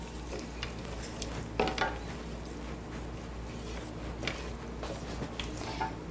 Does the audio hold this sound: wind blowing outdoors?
no